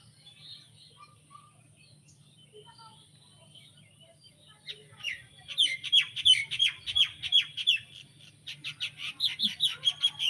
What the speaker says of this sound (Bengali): আমরা ছাদে বসে আছি দুজন মিলে পাখির শব্দ শুনতে পাচ্ছি